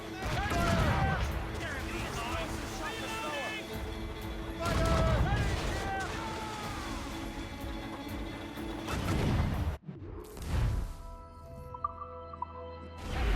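Cannon fire during a naval battle in Assassin's Creed Rogue, several heavy booming blasts with crashing impacts, loud and close, mixed with shouted voices and ship noise before things briefly go quiet.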